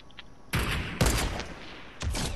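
Gunfire from a Fortnite match comes as three loud, sharp bursts spaced about half a second apart, each cracking out of a quiet background and fading quickly, with no talk.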